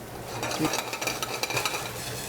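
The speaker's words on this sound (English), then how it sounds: "In go the giant Gulf prawns." Giant Gulf prawns fry in a pan with shallots and garlic, giving a busy sizzle under quick stirring scrapes and light utensil clatter.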